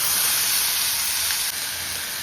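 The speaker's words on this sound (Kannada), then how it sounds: "ಇವಾಗ ಆಯಿಲ್ಗೆ ಸಾಸಿವೆ, ಜೀರಿಗೆ ಮತ್ತು ಹಸಿಮೆಣಸಿನ್ಕಾಯಿ, ಬೆಳ್ಳುಳ್ಳಿ ಇಟ್ಕೊಂಡಿದ್ದೀನಲ್ಲ ಅಷ್ಟು ಹಾಕ್ಕೊತೀನಿ" Tomato sizzles in hot oil with mustard seeds, cumin, green chilli and garlic, giving a steady, loud, close frying hiss that runs without a break and carries no voices.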